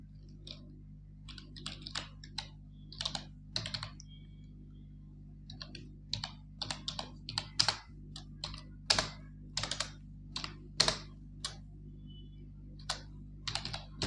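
Typing on a computer keyboard while formatting text in a word processor, irregular clusters of light key clicks with brief pauses, close and fairly quiet over a low steady hum.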